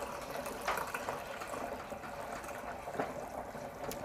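Winexpert Sauvignon Blanc wine kit juice pours steadily into a container, a continuous splashing, gurgling stream that stays close and even for the whole stretch, with no voices over it.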